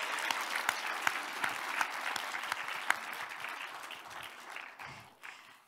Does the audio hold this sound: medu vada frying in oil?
no